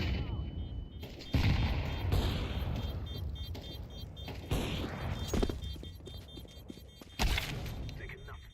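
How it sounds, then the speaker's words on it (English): Explosions and gunfire in a Counter-Strike-style shooter game: several loud booms and bursts of shots, including a grenade and a flashbang, amid game noise with voices talking. "I'm throwing a flashbang."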